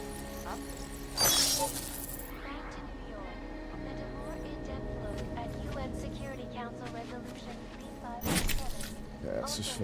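In a video game, glass shatters twice in loud, bright crashes separated by several seconds, over a steady hum of ambient game noise with speech audible in between.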